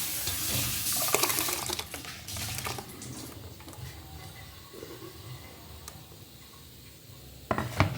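Churned butter and buttermilk poured into water while making homemade butter, giving a steady watery splash and sloshing with scattered clatter of a vessel, fairly faint and without talking.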